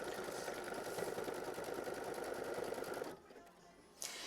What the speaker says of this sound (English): we're going to tack it down with machine stitch step 27